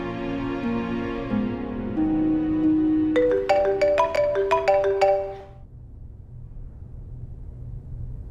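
A phone ringtone plays loud and close, a rising melodic tune of bright tones and chimes that stops after about five seconds, leaving quiet room noise.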